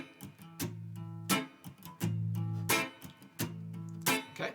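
Guitar playing a rhythmic groove, alternating sustained chords with sharp percussive strums in a repeating pattern, clear and close with no talking.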